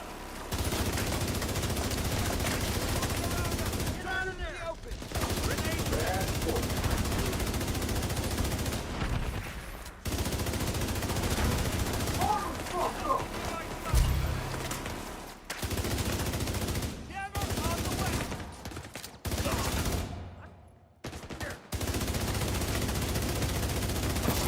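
Continuous gunfire in the shooter game The Division 2, with dense rattling bursts broken by a few short pauses over about twenty-five seconds.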